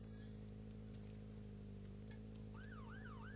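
A police siren wails in a Roblox game, a rising and falling electronic tone that comes in partway through, faint and distant over a steady engine-like hum.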